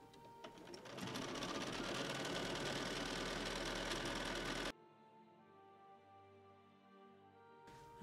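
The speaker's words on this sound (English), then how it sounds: "and then we'll sew this one down" A sewing machine stitches a faux chenille quilt block for a baby quilt, running steadily and loudly for about four seconds before stopping abruptly, leaving a faint low hum.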